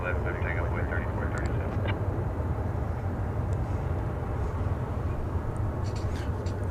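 A Boeing 757 taxis at DFW Airport toward its takeoff runway, giving a steady, moderately distant jet engine rumble that holds for the whole stretch, with faint voices now and then.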